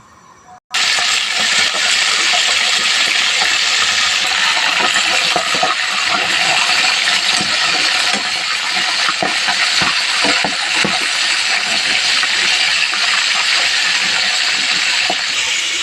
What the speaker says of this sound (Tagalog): Kumukulo ng langis natin mga meses